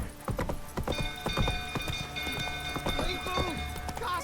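Roach, a horse in The Witcher 3, clops along with a steady run of hoofbeats close by, over a constant game-world rumble and faint tonal music.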